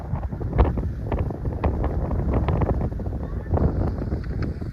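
Strong wind buffets the microphone in heavy, uneven gusts, with low rumbling blasts and rustling filling the whole stretch.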